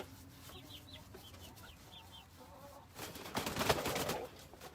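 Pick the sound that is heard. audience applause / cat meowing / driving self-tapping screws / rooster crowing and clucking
rooster crowing and clucking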